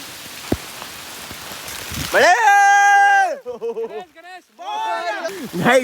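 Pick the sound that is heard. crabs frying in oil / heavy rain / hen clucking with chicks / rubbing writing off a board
heavy rain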